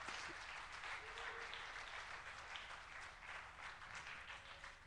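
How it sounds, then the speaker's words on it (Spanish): Church congregation applauding during a Spanish-language worship service at a congress, a steady broad wash of many hands clapping, moderately distant and continuous throughout. "¿Quién le da un aplauso al Señor de la gloria?"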